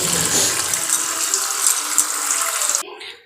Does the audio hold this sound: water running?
yes